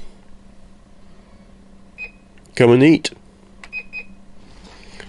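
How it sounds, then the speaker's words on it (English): An automatic WOPET pet feeder gives short electronic beeps around a brief recorded voice message, the tones thin and close, with a couple more beeps following the speech. "it will beep twice, letting you know that the recording is complete."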